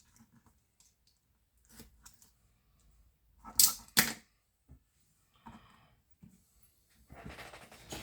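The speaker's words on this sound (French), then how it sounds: "je vais couper un peu le papier, parce que j'ai pas besoin de tout ça" Paper being cut with scissors for a scrapbook album cover, heard as scattered soft snips and crisp rustles, with two louder sharp cuts midway and a longer papery shuffle near the end, close and alone.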